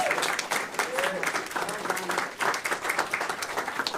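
An audience at a Senate Democrats' child care legislation event breaks into steady, moderately loud applause, with many hands clapping at once and continuing throughout.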